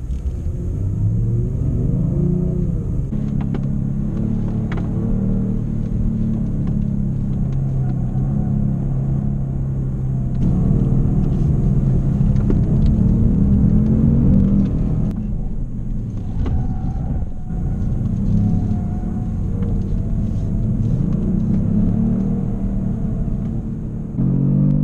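A Kia Stinger GT drives an autocross course in the Mojave Desert, its engine a steady low rumble that swells and eases with throttle changes, close and loud throughout with no talk.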